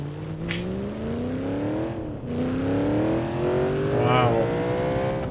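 A tuned car in BeamNG.drive, fitted with a transaxle, limited slip differential, ultralight flywheel and nitrous, revs hard with rising engine pitch that drops back at a shift, then climbs again loudly and continuously, with speech over it.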